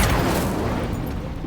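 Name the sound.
Incendio fire spell blast in the Hogwarts Legacy video game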